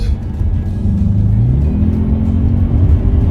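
An Audi RS6 engine revving hard and close, a deep throaty roar that rises in pitch as it accelerates, loud and continuous.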